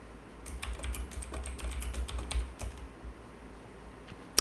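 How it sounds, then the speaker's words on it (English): A password goes in on a computer keyboard, a quick run of light, fairly quiet key taps, irregular and close, that pauses briefly before a final harder keystroke. "we need to type in the password."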